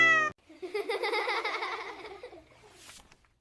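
A cat gives a drawn-out, wavering meow, clear and close, following a brief sung or tonal note, and trailing off into quiet with a faint breathy sound at the end.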